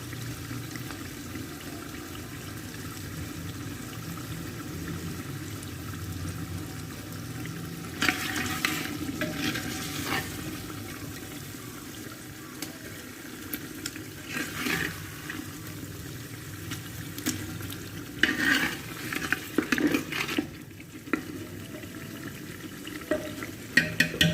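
Fried mutton in a pot, with fenugreek and green coriander being added, gets stirred again and again: scrapes and clanks over a steady sizzle through a long stretch, growing busier toward the end, with no one talking.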